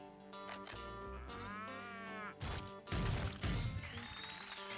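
A cow moos in the Big Buck Hunter pinball game, with electronic game music and sharp thwacks and crashes of ball hits, all fairly quiet and steady.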